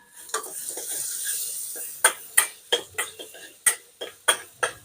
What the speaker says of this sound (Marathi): कोथंबीरही परतून घेऊ